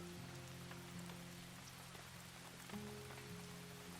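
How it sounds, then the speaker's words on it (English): Steady rain falling in the video game Farthest Frontier, a soft continuous patter on surfaces, faint under low tonal background music with no talk. "Oh, what do you know? It's a rainy day."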